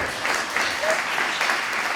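Steady applause from an audience at an MLK celebration day event held by a Cape Verdean association, a close, even wash of clapping filling the short stretch.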